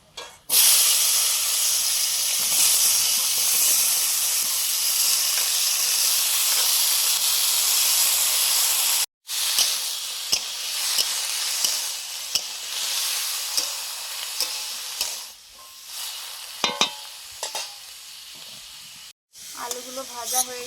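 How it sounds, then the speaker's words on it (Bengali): Sliced banana stem and potatoes fry in a little oil in a pan, giving a steady, close hiss and sizzle, broken by a couple of brief pauses and some scraping stirs near the end. "অল্প একটু তেল দিয়ে কলার থোড়টা ভেজে নিচ্ছি।"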